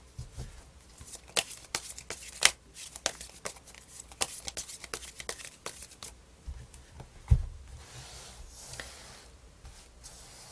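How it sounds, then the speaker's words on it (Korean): Tarot cards are shuffled and handled at close range as a series of soft, crisp riffles and flicks at irregular intervals, with a few sharper snaps and a quiet background. "카드 한번 더 뽑아볼게요"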